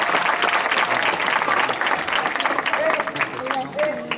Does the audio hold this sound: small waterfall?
no